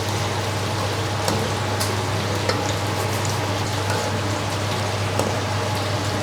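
Stir fry sauce sizzles and bubbles in a pan, making a steady, dense crackle with occasional sharper pops, and nobody talks.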